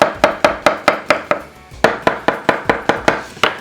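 Knife chopping mushrooms on a cutting board, about fifteen crisp evenly spaced chops with a short pause partway through, close and clear with no talk.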